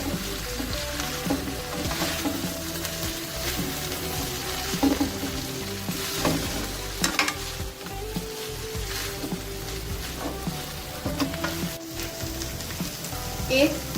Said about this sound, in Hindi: बंद गोभी ऐड करेंगे। इसको हाथ चम्मच की मदद से हम मिक्स करेंगे।